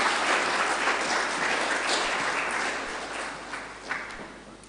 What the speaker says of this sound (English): Another round of applause first.